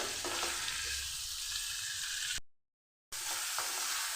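Cauliflower pieces, salted and with turmeric, fry in mustard oil in a wok, a dense, even close sizzle with light stirring, cut off by a short silent gap before continuing.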